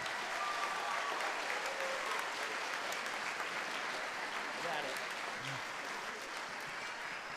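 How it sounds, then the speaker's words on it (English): Sustained applause from the audience at a middle school spring band concert: a continuous wash of many hands clapping, even and moderately loud throughout, with some faint crowd noise mixed in. "let's give them a big round of applause"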